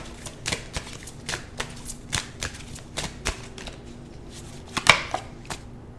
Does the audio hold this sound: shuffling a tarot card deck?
yes